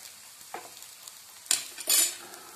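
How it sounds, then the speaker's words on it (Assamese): Spinach paratha frying in ghee on a pan, quiet background sizzle punctuated by a few sharp scraping and stirring clicks of a utensil, with a brief louder hiss near the end. "ইয়াত আৰু অলপ অলপ ঘি এনেদৰে কিনাৰে কিনাৰে আৰু অলপ মই দি দিছোঁ"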